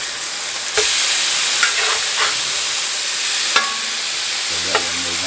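Sliced cheesesteak meat and caramelized onion sizzle loudly and steadily in a pan over medium heat, a constant frying hiss with a few scraping stirs and clinks on top.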